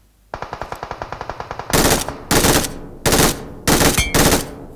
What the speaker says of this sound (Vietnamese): Bên này có tiếng súng tiếp này.